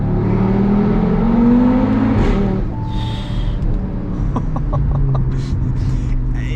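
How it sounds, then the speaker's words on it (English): An Audi RS3 8V with a loud aftermarket exhaust accelerates on the road, its engine note rising and climbing in pitch before a shift, then settling into a steady cabin drone close by. "It's got this guttural kind of throaty sound, and then higher up is where it sort of clears the throat."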